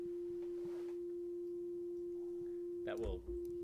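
A steady pure sine tone hums continuously at one pitch, with faint background noise and a short voice near the end.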